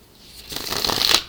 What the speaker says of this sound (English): Just one shuffle left to go.